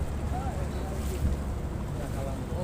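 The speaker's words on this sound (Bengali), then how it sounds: "এই যে বিশাল একটি বালির জাহাজ দেখতে পারেন" A large sand-carrying cargo boat on the Buriganga river, its low engine rumble steady amid wind buffeting the microphone and open-water noise, with a brief voice faintly present.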